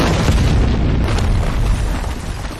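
A loud, close explosion gives a dense, sustained roaring blast with heavy low rumble that fades slightly toward the end, and no one talks over it.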